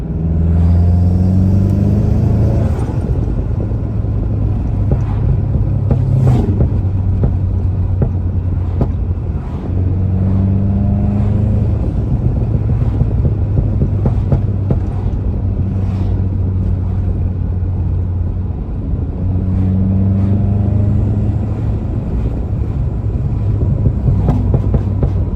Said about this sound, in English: We'll put it in sport so you can hear the pops.